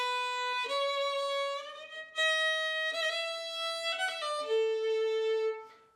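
Solo fiddle plays a bowed melodic phrase that climbs to a high third, several sustained notes with clear bow changes, ending on a long held low tone, close and alone.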